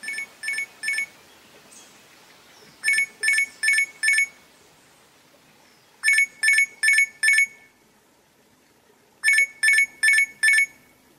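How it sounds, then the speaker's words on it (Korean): An alarm clock rings in four bursts of rapid, bright electronic beeps, each burst of about four pulses separated by brief pauses, clear and alone against a near-silent background. "알람 소리를 듣고 잠에서 깨어났다"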